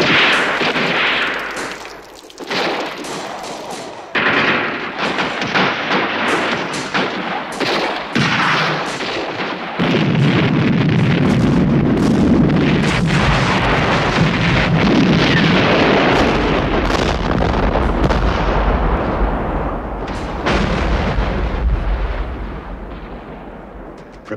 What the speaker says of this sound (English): prepared the artillery to open fire. Blast them.